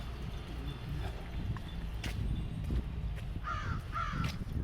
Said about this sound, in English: I hear a crow somewhere's up there.